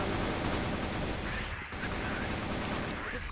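Gunfire rattles in a competitive match of a first-person shooter on a submarine base map, dense continuous bursts at close range with a brief pause midway, no clear talk over it.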